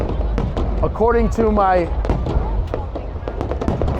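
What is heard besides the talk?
New Year's Eve fireworks over Saigon riverside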